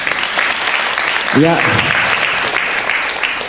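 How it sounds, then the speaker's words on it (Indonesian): Audience applause fills a religious lecture hall for Ustadz Hilman Fauzi, a steady crowd clapping throughout with a brief spoken word from the stage over it. "Boleh tepuk tangan untuk Ahilman"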